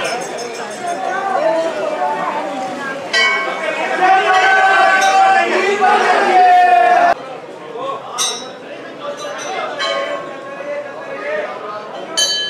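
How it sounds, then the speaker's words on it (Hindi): Busy crowd chatter inside the crowded Hanuman temple at Connaught Place, many voices murmuring close by with clinking metal and occasional bell-like chimes, someone speaking over the din. "मंदिर में काफ़ी भीड़ है।"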